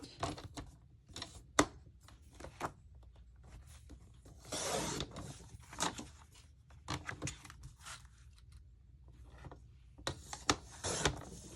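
A paper Christmas card is trimmed in a craft setting, with a series of short, sharp cutting and sliding strokes, irregular clicks and a longer rasping pass, close and fairly quiet with pauses between.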